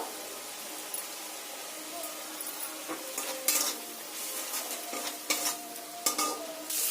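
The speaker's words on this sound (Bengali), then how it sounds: "মশলাটা খুব ভালো করে কষে এসছে দেখুন সাইড দিয়ে কেমন তেল ছাড়ছে" A spice paste with turmeric and a splash of water sautéing in a pan, a soft background sizzle broken by a spoon's scraping strokes and occasional metallic taps against the pan, fairly quiet and close.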